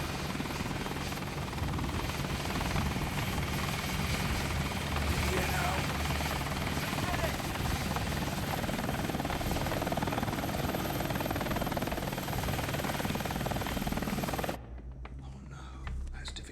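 A helicopter flies overhead in a steady, loud, continuous rotor drone lasting about fifteen seconds, then cuts off abruptly, leaving a faint background.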